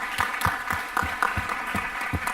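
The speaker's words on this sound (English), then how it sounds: "you deserve an absolute round of applause" Conference audience at a Scottish Liberal Democrats spring gathering claps, individual claps fairly distinct and rhythmic rather than dense, moderately quiet and steady through the short stretch.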